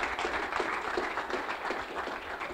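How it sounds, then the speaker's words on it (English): Audience applause after a talk at a technical meetup, a continuous wash of many hands clapping at steady volume with no voices over it. "Give a round of applause for Feline"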